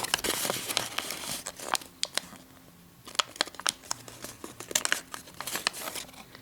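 Paper for an origami coffee mug flasher being creased into valley and mountain folds, close crinkling and crackling in quick bursts with brief quiet pauses, no talking.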